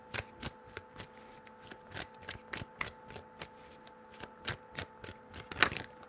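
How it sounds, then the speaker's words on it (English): Tarot cards being shuffled by hand, a run of quick, crisp riffling slaps and ticks in an uneven rhythm, close and fairly quiet, with no talking. "3 shuffles"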